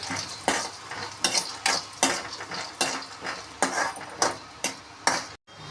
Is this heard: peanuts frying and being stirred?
yes